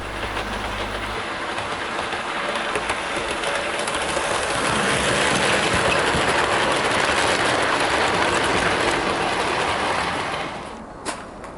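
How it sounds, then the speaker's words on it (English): A Heljan retooled Class 33 model locomotive in Civil Engineers livery hauls seven wagons along model track, a steady close rolling rumble with faint clickety-clack that grows slightly louder, then cuts off near the end. "without the weight, this locomotive wouldn't even be able to pull these 7 wagons"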